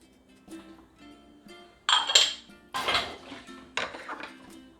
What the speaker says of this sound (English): and stir it in